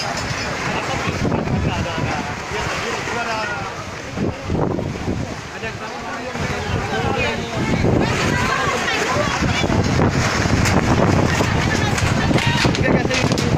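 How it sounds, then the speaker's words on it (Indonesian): A strong west wind gusts across an outdoor wedding reception in a village in Lumut where a canopy has collapsed, roaring steadily into the microphone as people talk throughout. "Angin barat bertiup."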